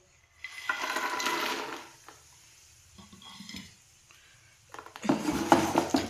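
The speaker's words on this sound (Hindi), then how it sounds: "घी डल गया है, मेल्ट हो रहा है। तो इसमें मखाने डालेंगे।" Fox nuts (makhana) go into melted ghee in a pan, giving two bursts of crackling sizzle and stirring scrapes with a quiet pause between them.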